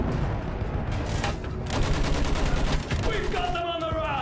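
Rapid automatic gunfire from a World War I machine gun in the shooter game Battlefield 1 rattles over a dense, steady battlefield din of explosions and shouting voices, with tonal music or sirens rising near the end.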